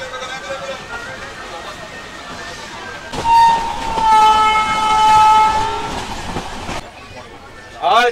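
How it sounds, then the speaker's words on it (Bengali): The Tamralipta Express from Howrah to Digha runs steadily, with a rumbling carriage, rail clatter, and a long loud horn blast near the middle, then a short squeal near the end. "জেনারেলে এক্সপ্রেস ট্রেনের জেনারেলে এইভাবে যাচ্ছি, এটা প্রথম"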